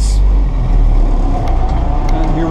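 A 1960 Land Rover 88 station wagon driving, a loud, steady low engine drone heard from inside the cabin in third gear.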